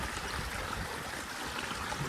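Rainwater rushing along a stream in a Botad village after heavy rain: a steady, even wash of flowing water with no voices.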